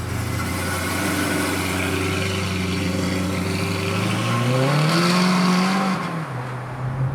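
A Maserati engine hums steadily during a drive, a low continuous drone that rises in pitch as the car pulls through a gear, then drops away, heard from inside the car without any talking.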